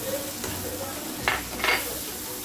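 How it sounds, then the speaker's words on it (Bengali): Shrimp frying in a pan with turmeric, chili and salt, a steady low sizzle with two brief bursts of stirring scrapes near the middle, close and moderately loud. "সবগুলো মশলা একসাথে মাছের সাথে ভেজে নেব।"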